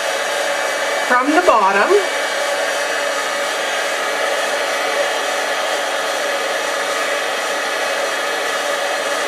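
A heat tool blows a loud, steady, close whoosh as it melts embossing powder for a faux wax seal. A person speaks briefly over the airflow near the start.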